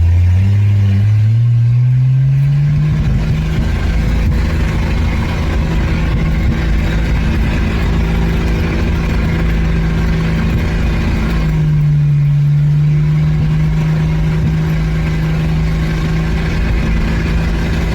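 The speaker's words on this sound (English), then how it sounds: "but revving really high." A 1965 Rambler American engine revs high while driving, a loud, sustained drone that climbs in pitch, holds steady, then drops and settles again near the end.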